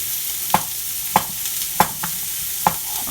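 Sliced potato and vegetables sautéing in a pan for potato soup, with a soft steady sizzle underneath and four or five sharp utensil scrapes and taps spaced roughly every half second, close and moderately quiet.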